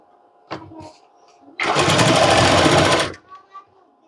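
A sewing machine runs a fast, steady stitching burst of about a second and a half along a blouse side seam, loud and close, with someone speaking briefly before it starts.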